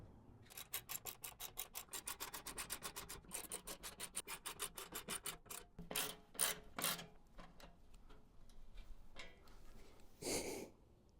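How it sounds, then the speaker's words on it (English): Bolts on Cybertruck running board mounting plates tightened with a ratcheting tool, a quick series of close, regular clicking strokes followed by slower, separate clicks and a final rasp. "Now we just need to tighten up the bolts that go from the mounting plates onto your running board."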